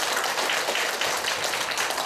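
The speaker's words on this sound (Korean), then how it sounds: "박수 한번 부탁드립니다" Applause from an audience at a performance in a veterans' hospital, a steady, dense wash of clapping filling the whole moment at moderate loudness, with no voices over it.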